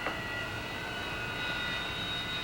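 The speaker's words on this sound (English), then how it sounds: "Stand by to start the A4s and the F4s." A-4 and F-4 jet engines spooling up on an aircraft carrier flight deck, a steady, loud whine with high tonal hum holding throughout, no voices.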